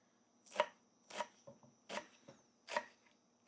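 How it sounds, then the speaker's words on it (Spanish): A knife chops spinach on a cutting board, with four distinct, evenly spaced strokes and lighter taps between them, close and clear with no talking. "Y hemos picado toda la espinaca."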